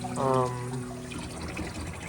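Well water runs from a kitchen tap for a sourdough starter, a soft low trickle that follows a brief voice at the start.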